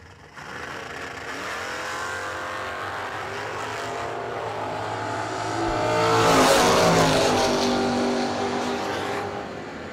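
A Thunderbird and a Camaro launch in a bracket drag race, engines roaring loud and steady, swelling to a peak as the cars pass close, then easing off.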